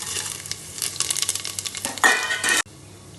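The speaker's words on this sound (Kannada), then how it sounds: "ಇದರಲ್ಲಿ ಎಲ್ಲ ಮಸಾಲನೂ ಇದೆ, ಹಾಕ್ತಾ ಇದ್ದೀನಿ." Masala for mushroom biryani sizzling in hot oil, with rhythmic stirring scrapes and clinks of utensil on pot, then a sharp loud burst of sizzle before it cuts off; close, no talking.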